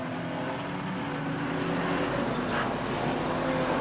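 Street stock race car engines droning steadily at Gympie Speedway, a continuous mid-distance roar of several cars circulating the dirt oval with no clear pass-by peaks.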